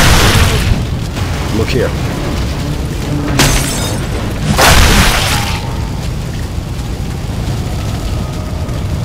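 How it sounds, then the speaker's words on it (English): A pipe bomb goes off in Left 4 Dead 2 during the Dead Center campaign: loud broadband blasts around three and a half and five seconds break through steady game noise, with a voice speaking briefly near the start. "Throwing a pipe bomb."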